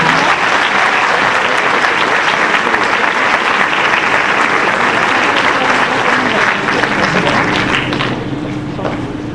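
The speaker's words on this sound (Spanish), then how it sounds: "Un aplauso, por favor." Audience applause at a Spanish-language book presentation, a dense, steady wash of clapping filling the room for about eight seconds before thinning slightly at the end.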